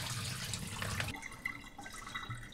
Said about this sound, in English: please drain the water well